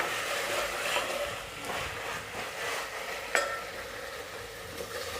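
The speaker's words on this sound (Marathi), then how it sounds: "दोन चमचे आलं लसूण पेस्ट, परतून घ्यायची आहे" Ginger-garlic paste sautés in a pan for veg dalcha, a steady soft sizzle running throughout with a faint clink of the spoon midway, no voices.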